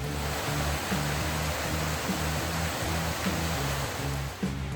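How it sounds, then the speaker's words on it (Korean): A mountain valley stream rushes through an autumn forest trail at Bangtaesan, giving a steady, full wash of flowing water that stays close and constant with no voices. "계곡도 아주 시원하게 팔팔팔"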